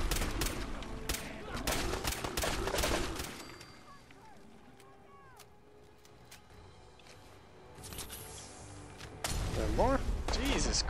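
Pipe rifle gunfire in Fallout 4 Far Harbor: rapid bursts of sharp shots in the opening seconds, a quieter stretch in the middle, then more volleys toward the end, with game voices in between.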